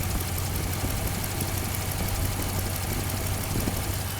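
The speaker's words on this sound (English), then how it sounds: "so you can hear the belts spinning." A 2014 Jeep Grand Cherokee engine idles steadily up close, a low hum with a busy whirring and ticking layer from spinning belts on top, even and unchanging; no speech.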